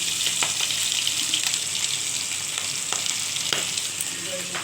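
Fish fries in oil with a continuous bright crackling sizzle, broken by occasional sharp spatters and soft stirring sounds, with no voices.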